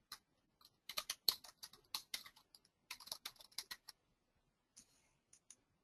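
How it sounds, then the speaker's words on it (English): Clicking keystrokes on a computer keyboard while working in Microsoft SmartArt, typed in quick bursts with short pauses, close and fairly quiet, no talking. "So it's a matter of clicking and typing."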